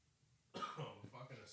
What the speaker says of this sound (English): Fucking dying at the moment with this fucking cough, mate.